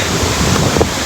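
Thoseghar waterfall roars in a dense, continuous rush of falling water, loud and steady with wind buffeting the microphone.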